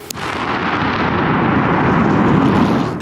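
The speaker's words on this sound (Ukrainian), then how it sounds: "Вибухотехніки її дистанційно підірвали." A Kh-59 missile is remotely detonated by bomb disposal experts in a dry grassy area, one sustained, loud, broadband rumble that fills the whole clip without easing off.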